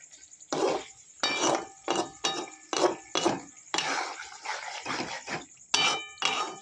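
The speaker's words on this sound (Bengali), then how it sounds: "ভালো করে নাড়িয়ে নেব, মিক্স করে নেব সবটা একসাথে" Spoon scraping and clinking around a pot of shahi white chicken korma as it is stirred, with repeated bursts of metallic scraping separated by short pauses.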